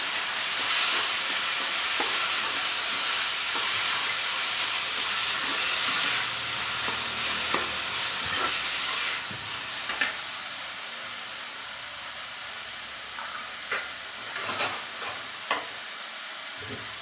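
Boiled green beans stirred into fried onions in a hot pan give a steady sizzle with occasional scraping stir sounds, close and continuous, easing slightly toward the end.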